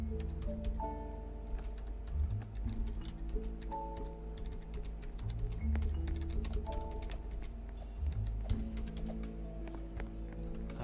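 Rapid keyboard clicks tapping away on a computer keyboard, steady and close, over a continuous tonal background bed.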